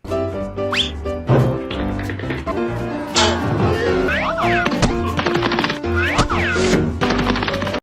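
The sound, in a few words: slapstick sound effects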